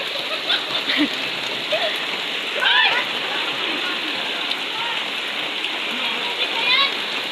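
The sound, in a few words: rain falling after a long drought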